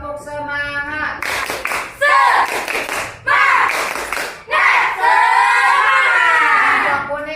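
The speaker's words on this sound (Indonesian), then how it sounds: "Kelompok merah tepuk semangat." A classroom group performs a rhythmic spirit clap in bursts of quick, loud claps, with a teacher's voice calling out between rounds.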